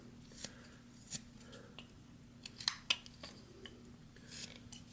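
A whittling knife cuts into basswood with a series of short, dry scraping and snapping strokes, close and quiet, spaced irregularly with brief pauses between them.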